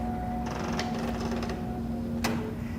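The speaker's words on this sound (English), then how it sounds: "it's going to start quilting, and we'll see those feet show up on the fabric. It's going to do a couple starting stitches" A computerized quilting machine starts stitching fabric, giving a steady mechanical hum with a faint tone. Quick rhythmic needle clatter and ticking run through it, and a brief louder clack comes near the end.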